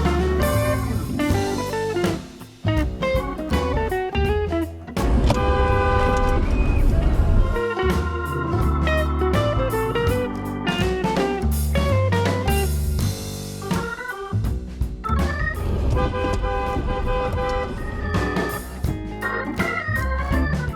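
A car horn honks at another driver in traffic, several loud toots and blasts repeated over a stretch of road noise and engine sound, with voices talking in between.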